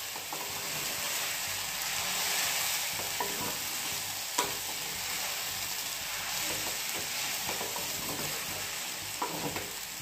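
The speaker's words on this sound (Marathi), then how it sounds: "आपण त्याला 5 मिनिटं असाच भुजून घेऊ।" Sweet potato pieces sizzle steadily in hot ghee for halwa while a spoon stirs and scrapes them through the pan, a continuous close frying hiss with occasional clinks.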